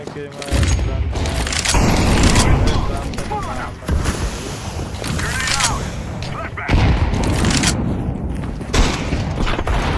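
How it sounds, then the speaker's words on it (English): Loud, dense gunfire and bursts from the Counter-Strike 2 video game, including a thrown flashbang grenade, rattle through the match while a voice talks over the game sounds. "Throwing a flashbang."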